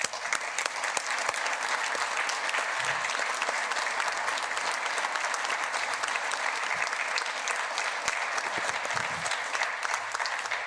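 Steady applause fills a South Dakota legislative chamber as pages are honored, holding dense and even for about ten seconds with no voices over it.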